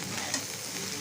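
Cauliflower florets frying in oil in a pan, a close, steady, crackling sizzle with faint stirring and no voices.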